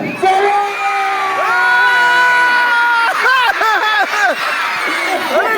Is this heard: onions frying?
no